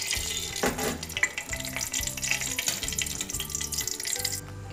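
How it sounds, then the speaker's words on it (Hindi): Fenugreek seeds frying in oil for a fish curry, a bubbling, watery sizzle with rhythmic low thumping and stirring throughout, close and fairly loud, with no one speaking. "मेथी को अच्छे से भून लेना है"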